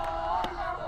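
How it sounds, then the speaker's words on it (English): Players and teams at a college softball game between Montgomery College and Hagerstown Community College cheer and chant as a loud, steady crowd roar that fills the whole brief moment. "the cheering and the chanting of the players and the teams"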